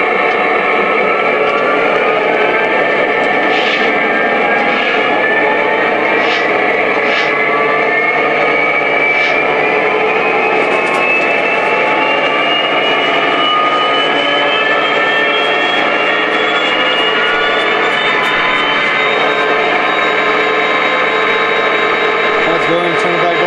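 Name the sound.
Lionel PRR GP35 model train locomotive engine revving sound effects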